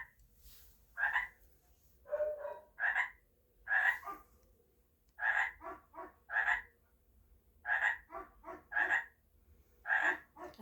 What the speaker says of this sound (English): I hope you can hear that frog.